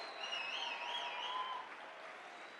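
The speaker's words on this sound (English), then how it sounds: "Come on, let's give them a hand." Audience applause at a large affiliate convention, a steady wash of clapping from a big crowd that holds fairly even for a couple of seconds, then thins slightly.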